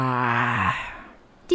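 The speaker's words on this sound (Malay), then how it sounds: "Ola menguap seluas-luasnya." A voiced yawn sound effect for a story scene, one drawn-out descending moan-like exhale that fades over about a second, followed by a brief click at the end.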